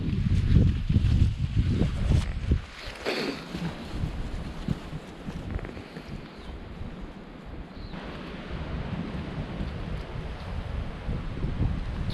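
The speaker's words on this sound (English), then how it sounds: "it's really windy up here" Strong wind on a steep mountain ridge roars and buffets steadily, gusting loudly at the start and continuing as a dense rushing noise throughout.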